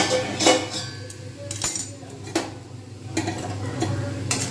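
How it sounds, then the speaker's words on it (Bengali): Hot water goes into a pan of Bengali fish curry, making a hissing sizzle mixed with clinks and scrapes of a utensil against the pan, close by and without talk. "এবার আমি এর মধ্যে জল ঢেলে দেবো গরম জল যেটা রেখে দিয়েছিলাম তাকে সেটা ঢেলে দেবো"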